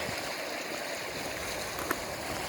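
The River Itchen near Winchester flowing where the channel divides, a steady broad rushing burble of moving water, fairly close and continuous, with no voices.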